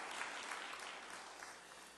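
A church congregation at a Sunday worship service in a New Jersey Presbyterian church applauds in welcome, a steady, dense wash of clapping from many hands that fills the room for the whole stretch.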